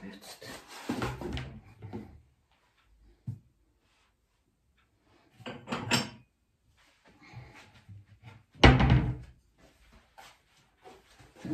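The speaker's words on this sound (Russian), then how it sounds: "Вот эти дверцы у шкафов громко гремят." Kitchen cabinet doors bang shut a few separate times, each a sharp, fairly loud knock with quiet handling noise and rustling in between.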